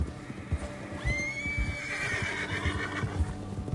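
A horse in Red Dead Redemption 2 lets out a loud, close neigh over the steady clip-clop of galloping hooves in the video game.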